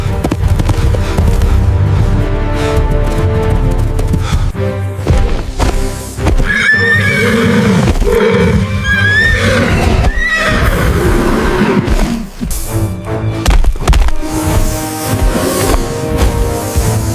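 A horse caught by a python whinnies and neighs in loud, repeated, strained cries, close and intense, over a dense, noisy backdrop with thumps and crackling bursts.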